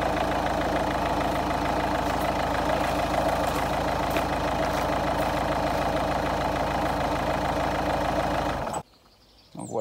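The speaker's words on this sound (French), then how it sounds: "Donc voilà, j'ai démarré mon véhicule." A car engine idles steadily and loudly just after being jump-started with a TOPDON JS1200 booster, a constant low rumble that cuts out abruptly near the end.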